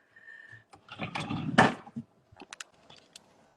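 A wooden drawer slides and bumps open with a few knocks and rattles of its contents, close and fairly quiet, in an indoor room.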